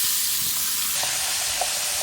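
Steady loud sizzling of a whole tilapia frying in hot oil in a pan, a constant hiss with faint pops, no voices.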